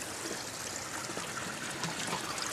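Water flows steadily from garden pond pumps, a continuous soft trickling and splashing wash that stays fairly quiet and even throughout, with no voices.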